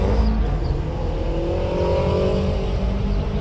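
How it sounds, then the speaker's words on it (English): A Honda S2000 fitted with a body kit rolls up at a Cars and Coffee meet, its engine a loud, steady, close drone with a slight rising tone and no talking over it. "This S2000 with a body kit that just rolled up and a bug eye"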